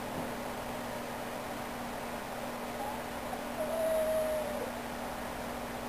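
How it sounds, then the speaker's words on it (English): A dog whines in a high, thin tone for about a second, fairly faint against a steady hiss and low hum in a quiet room where someone is sculpting a face. "My dog's whining."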